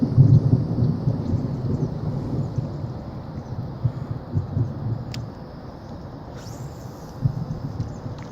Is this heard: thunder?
yes